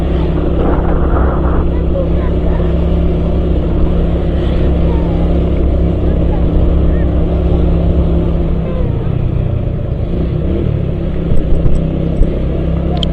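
Yamaha Vega ZR motorcycle riding along a rural road carrying three people, a loud continuous engine hum mixed with wind buffeting, with a voice talking over it.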